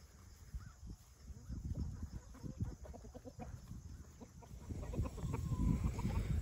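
Pasture chickens in a rotation system behind grazing cattle and sheep cluck and chatter continuously, many birds close by in an outdoor field, their soft overlapping calls rising slightly toward the end with no talking.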